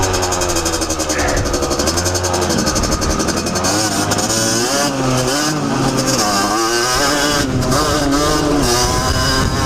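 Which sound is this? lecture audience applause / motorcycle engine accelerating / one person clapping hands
motorcycle engine accelerating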